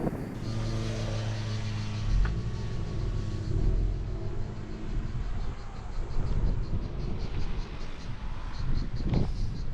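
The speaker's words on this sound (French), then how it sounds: "on est en train de vous tourner un petit peu des rushs où il va passer avec la Mustang" A Ford Mustang V6 accelerates past with a deep rising engine note and rumble, climbing in pitch before fading, while people talk nearby.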